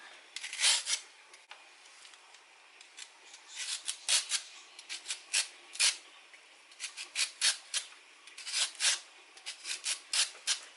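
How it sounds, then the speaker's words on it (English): A handheld kitchen gadget shaves a carrot into thin strips in a string of crisp, scraping strokes, each a short rasp, coming close together in an uneven rhythm. "Take on this big one here just to get some nice thin strips from the carrot."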